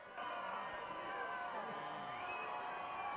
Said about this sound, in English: It's a nice crowd here on both sides of the field tonight.